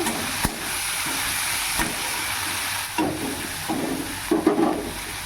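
Pieces of bhetki fish fry steadily in hot oil, a continuous close sizzle and crackle with brief louder spits and bursts breaking through; no voices.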